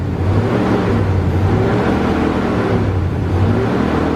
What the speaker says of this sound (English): let's bring the idle up